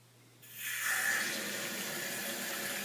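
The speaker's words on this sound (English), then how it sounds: "Now I'm going to turn the water on." Water rushes steadily from a tap feeding a tankless electric hot water heater, a broad hiss that swells in after a quiet moment and then holds at an even level with no talking.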